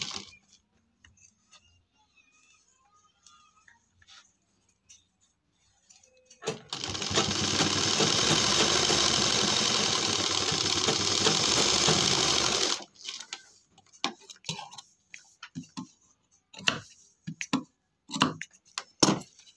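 A sewing machine stitches cloth slippers made from leftover fabric, running in one steady rapid whirring burst of about six seconds, with quiet handling clicks and taps before and after.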